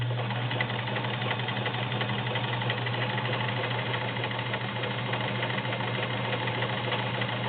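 A Kenmore 1802 sewing machine zigzag-stitches through four layers of garment leather, a steady, fast mechanical whirring hum with a constant motor drone running alone at close range.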